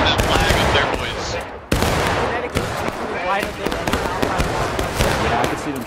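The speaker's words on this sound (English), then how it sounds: "Yeah, I can see them shooting at him right now." Musket volleys in the Civil War game War of Rights on a farmland battlefield: dense, loud crackling gunfire with overlapping shots and distant booms, continuous throughout, with players' voices mixed underneath.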